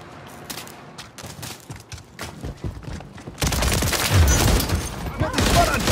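Call of Duty gunfire, rapid bursts of shots that swell into dense, loud continuous firing in the second half, with voices shouting over it.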